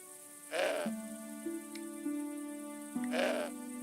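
A goat bleats twice in the video game Broken Sword 5: The Serpent's Curse, each call loud, close and wavering, with a steady tonal game ambience humming beneath and between them.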